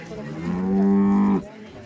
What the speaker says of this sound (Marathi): गाय बघा कशी येतात ही गाय बघा